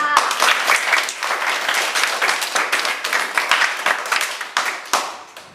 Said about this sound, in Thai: เก่งมากค่ะปรบมือค่ะ